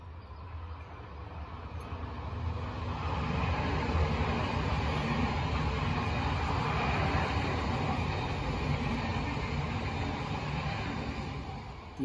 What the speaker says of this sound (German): kommt ein Zug hier.